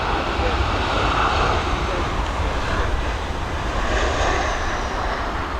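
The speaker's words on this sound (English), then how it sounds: "we've got this 737, she's coming in from East Mids in Nottinghamshire over in the UK" A Boeing 737 landing at Dublin Airport in high winds, its engines a steady, loud, broad roar throughout with a faint whining tone rising near the end.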